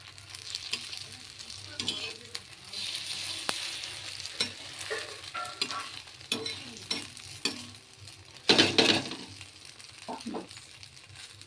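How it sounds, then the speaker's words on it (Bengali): A cheese omelette sizzles steadily in a frying pan, folded over and browned on both sides, with scattered scrapes and clinks of a spatula and one louder clatter near the end. "দু পিঠটা একটু ভালো করে ভেজে নিলে চিজ অমলেট"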